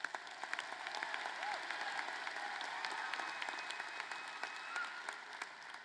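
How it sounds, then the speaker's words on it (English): Distant, fairly quiet applause from a commencement audience, many hands clapping in a continuous patter that holds steady for several seconds. "that calls for applause"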